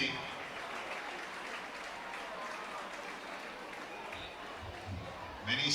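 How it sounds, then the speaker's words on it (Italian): Applause for a youth football team of young Pulcini players at a tournament award ceremony in Sardinia, a steady, moderately loud clapping that carries evenly from start to finish, with a brief voice rising near the end. "Un bel applauso e complimenti."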